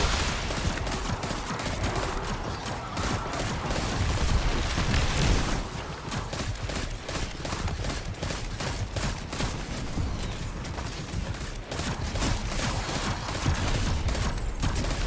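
Hand cannon gunfire in a video game: loud, dense volleys of shots pound almost without pause for the full stretch, with a brief dip before the firing resumes just as heavily. No one speaks.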